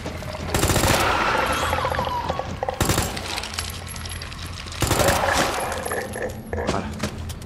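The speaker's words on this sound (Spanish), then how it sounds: "Un disparo a los dos" Gunfire in the Resident Evil 2 Remake video game, with three loud sharp shots spaced apart, each trailed by metallic clinks and ringing, over quieter game sounds and faint talk.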